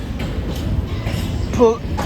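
Low rumbling of a freight train, hauled by locomotive 66 760, rolling past at Newcastle, steady and broad, with a brief squeal partway through.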